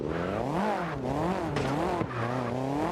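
Tires squeal and an engine whines in a car racing game during a slide-style practice run. The pitch sweeps up and down steadily and loudly for the whole stretch, with no talking.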